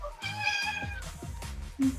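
A cat meows up close and loud, a drawn-out, wavering cry followed by shorter mews, heard indoors during a casual art stream with no speech over it.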